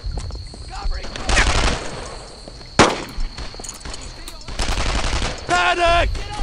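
Bursts of rapid gunfire and sharp single shots ring out during a World War II firefight in Brothers In Arms: Earned in Blood, loud and close, with shouted voices breaking in between.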